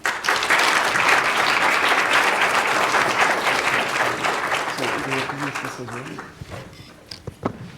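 Audience at a formal South Africa–United States relations event applauds to welcome a speaker to the lectern, dense clapping that fades out over several seconds with a few last claps.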